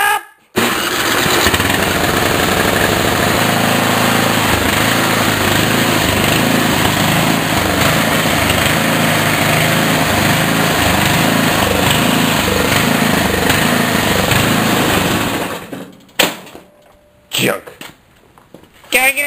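An old snowblower engine starts up and runs loudly at close range with a steady, buzzing, rattling drone for about fifteen seconds, then cuts out abruptly and sputters.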